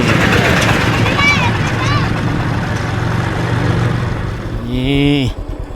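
A farm tractor in a Mangkong ethnic village in Laos runs close by with a steady, low rumbling engine drone while people talk over it, and a voice rises near the end.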